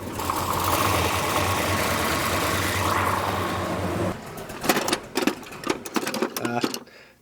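A race car engine running with noisy rockers and a loose throttle, a steady rapid mechanical clatter for about four seconds, then rough, uneven bursts and knocks as it stumbles and dies.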